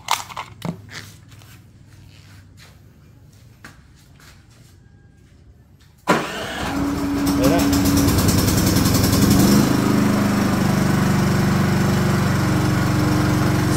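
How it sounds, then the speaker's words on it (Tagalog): A PK4200 automatic inverter silent generator starts abruptly after a few faint knocks and thumps, then settles into a steady, loud running drone with a rising hum that holds to the end. "Pag hinugot natin to, dapat mamatayan, mabubuhay yung generator."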